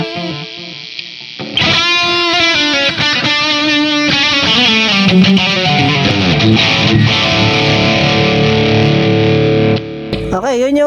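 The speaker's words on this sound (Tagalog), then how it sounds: "yun yung distortion or drive sounds natin" A distorted electric guitar tone from an M-vave MK-300 with a Joyo American drive sets the pace: after a quiet start, loud overdriven chords and riffs play steadily for about nine seconds, then stop abruptly near the end.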